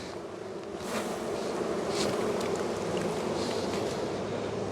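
Honeybees buzz steadily from an open hive during an inspection, a close, continuous droning hum that swells slightly after the first second and holds.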